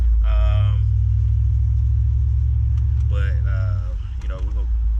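A Chevy SSR's engine rumbles low and steady while driving, with a person talking over it near the start and again later.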